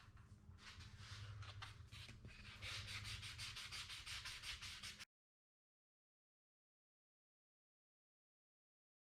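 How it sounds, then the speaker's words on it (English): A 220 grit sanding pad rubbed by hand over small wooden baby hand and foot display molds, a close, even scratchy rasp that turns into rapid rhythmic strokes, then stops abruptly into silence. "take this 220 grit sanding pad and go through and sand them completely down"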